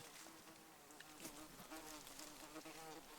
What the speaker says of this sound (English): This bee's gonna need protection in a minute